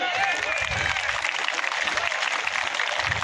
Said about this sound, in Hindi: आपने जिस जोश के साथ ताली बजाई